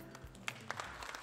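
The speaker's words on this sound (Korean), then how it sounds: "많은 박수와 성원을 부탁드리겠습니다" Audience applause as a choir concert begins: a brief, faint, steady patter of many hands clapping together.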